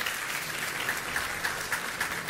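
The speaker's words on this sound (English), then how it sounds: "There's an enthusiastic crowd." An enthusiastic crowd applauds at a Samsung press event, a steady wash of clapping lasting throughout, fairly loud and even with no voices over it.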